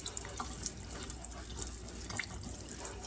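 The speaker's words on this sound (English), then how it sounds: "So we're gonna rinse this side out" Cooking greens are rinsed under a running sink faucet, a steady close hiss and splash of water with small drips, no voices.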